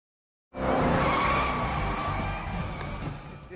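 Race cars skid with loud, sustained tire squeal and engine roar during a car race in the film The Bucket List, bursting in after a brief silence and holding steady for about three seconds.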